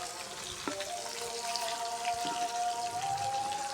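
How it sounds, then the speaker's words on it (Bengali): Hilsa fish frying in oil over a wood-fired stove, a steady close crackle and sizzle with scattered pops, running evenly throughout with no talking. "আমার মাছ দেখতে পাচ্ছ ভাজি করা প্রায় হয়ে গেছে"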